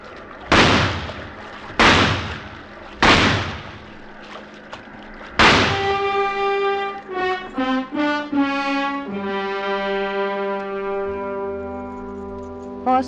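Four sharp, loud gunshots crack out one after another in a dramatic film scene, each with a short echoing tail, followed by swelling orchestral music.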